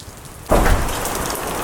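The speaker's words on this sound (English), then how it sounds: "Light rain, little breeze." Light rain and a slight breeze during a hurricane: a quiet hiss that jumps suddenly to a louder, steady patter of rain with a low gusting rumble, continuing without talk.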